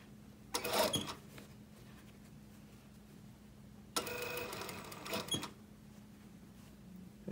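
A sewing machine stitches a knife-edge bolster, a circle eased along a straight tube, in two bursts, one brief and one longer, over a faint steady motor hum.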